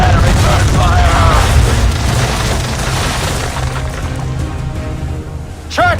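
Ship cannons fire during a naval battle in Assassin's Creed 3, heavy booms rumbling through loud continuous combat noise, with shouting voices over the din.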